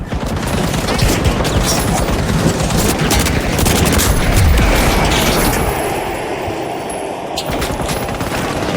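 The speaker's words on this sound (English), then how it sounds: "Pyro grenade out." In a video game, a pyro grenade goes off amid dense, continuous rapid gunfire, with loud overlapping bursts and booms that ease off slightly toward the end.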